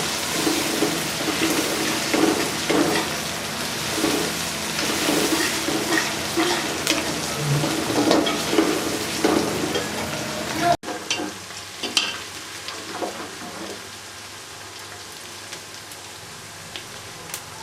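Ginger, garlic and ground green chili fry in a pan for petha salan, giving a steady close sizzle broken by stirring scrapes, then a quieter, sparser crackle in the latter part.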